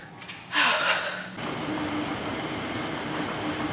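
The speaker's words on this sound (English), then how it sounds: "This is the happiest little monorail, actually." A Tokyo Disney monorail rumbles along with a steady, close rolling roar heard from aboard, with a brief louder swell and a faint high whine partway through.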